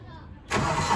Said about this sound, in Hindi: गाड़ी चालू करते हैं